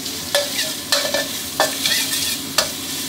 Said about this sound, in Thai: ต้องนำกระเทียมกับรากผักชีนะครับมาเจียวให้หอมก่อนเลยนะเนี่ยครับ